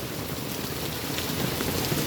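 Heavy rain keeps falling on a market street, a close, constant wash of patter with no pauses and no one speaking.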